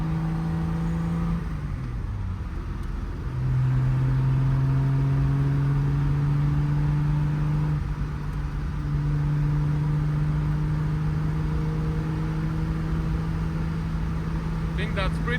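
A 1969 Triumph GT6 sports car on a test drive after work on steering vibrations, its engine droning steadily and rising through gears with audible shifts, loud and close from inside the car, with brief talk at times.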